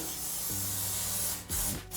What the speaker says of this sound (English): I'm gonna hit it with a little cooking spray.